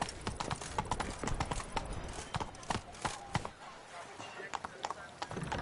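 Hooves of Roach, the horse in The Witcher 3, clip-clop at a steady gallop, the beats close and clear throughout, with a voice speaking faintly beneath them.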